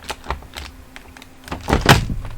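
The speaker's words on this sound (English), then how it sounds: "I am thumping things around on my desk." Objects thumped and knocked around on a desk make a scattered series of irregular taps and thunks, close and fairly quiet at first, then louder and denser toward the end.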